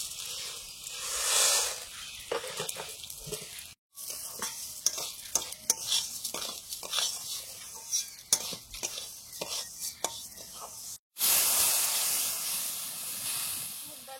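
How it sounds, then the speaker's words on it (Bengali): Mung dal dry-frying in a pan, stirred steadily with a spatula: a continuous close hiss and sizzle punctuated by repeated scraping strokes, with two brief silent breaks and a louder hissing burst near the end. "মুগ ডালটা ভেজে নিচ্ছি।"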